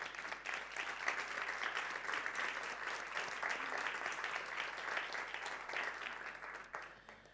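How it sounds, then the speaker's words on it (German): Dense, steady applause from an audience at the close of an interactive documentation event, continuous for about seven seconds before tapering off, fairly distant. "Ihnen nochmal einen Applaus."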